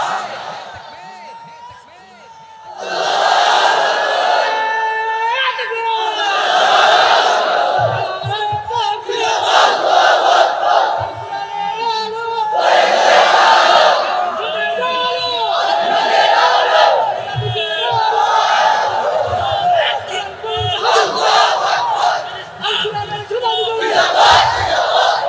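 A large crowd at an Islamic sermon (waz) chants the takbir in loud, roaring bursts. The bursts come in a repeating call-and-response rhythm, with a lone voice between the swells.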